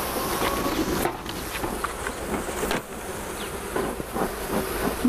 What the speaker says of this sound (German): Aber die Bienen sind ein bisschen nervös.